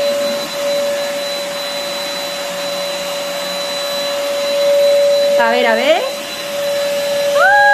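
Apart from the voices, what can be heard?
vacuum cleaner running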